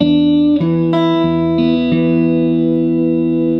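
Guitar fingerpicked in a Travis pattern, rockabilly country-blues in G: a steady run of ringing plucked notes with an alternating bass, each new note struck cleanly over sustaining strings, played alone and close.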